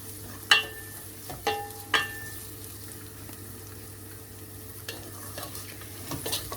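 Spoon scraping a pan as chili flakes and spices are stirred into a chickpea and egg curry base, with a few sharp clinks and a soft, steady sizzle underneath, fairly quiet.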